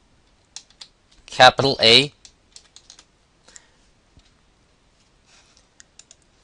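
Computer keyboard typing while editing HTML code, with scattered clicking keystrokes spread across the clip, briefly interrupted by a short burst of speech near the start.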